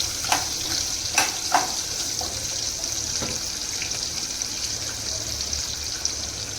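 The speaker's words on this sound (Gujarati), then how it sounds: "બે મિનિટ સિંગને ફ્રાય કરી અને પછી એમાં આપણે બધા જે મસાલો તૈયાર કર્યો છે એ એમાં આપણે નાખી દઈશું।" Saragava drumsticks and peanuts frying in a pan for a Gujarati sabzi, a steady close sizzle with a few sharp stirring clicks and scrapes near the start, no talk.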